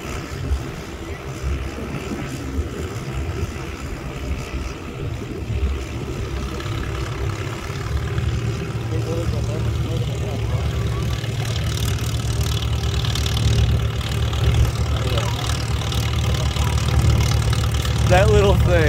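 An antique tractor engine runs at an antique tractor pull in Lanark, Illinois, a steady loud drone that slowly builds over nearly twenty seconds as people talk nearby.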